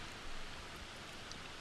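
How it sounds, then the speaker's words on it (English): Rain drums on a tin roof over a studio in Texas in July, making a soft, continuous patter that stays even and fairly faint throughout, with no voices over it. "Hear the rain?"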